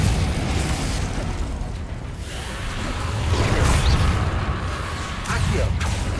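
Combat spells cast in Hogwarts Legacy, a dense stream of bursting explosions, whooshes and crackling impacts over a constant rumbling low background, with a voice calling out spell names.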